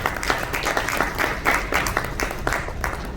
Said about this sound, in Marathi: एकदा जोरदार टाळ्या झाल्या त्यांच्यासाठी